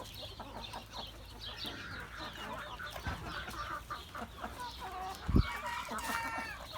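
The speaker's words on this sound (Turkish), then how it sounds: "Kel boyunlu horozumuz" A naked neck rooster clucks repeatedly and crows, with other fowl chattering around it in a lively farmyard.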